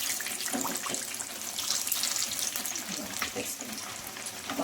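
Masala raw banana bajji fry in hot oil with a loud, steady, crackling sizzle that stays close and constant throughout, with no talking.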